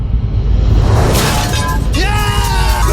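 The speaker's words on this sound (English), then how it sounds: "Selatan smashes their 5th tile." A tile is smashed during a Survivor South Africa immunity challenge, with a loud crash and shattering burst over a dense, noisy crowd roar, followed by rising cheers and shouting voices.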